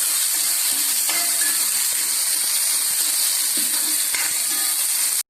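Onions and green chillies are stirred as they fry in a pan for an egg curry, a loud steady hiss with occasional faint scrapes and knocks of the spoon, ending abruptly.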